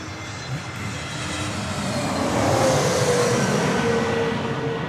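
Jet airliner taking off at Sydney Airport, a steady, broad engine roar that swells slightly as the aircraft climbs away, fairly loud and continuous with no talking.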